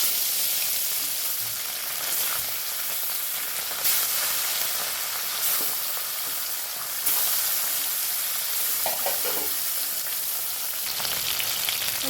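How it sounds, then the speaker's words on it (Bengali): Bele fish frying in hot oil, a loud continuous hiss and sizzle with brief bursts as pieces are added one by one, close and steady with no talking. "তেল গরম হয়ে গেছে। আমি এবার এর ভিতরে একে একে মাছগুলোকে দিয়ে দেব।"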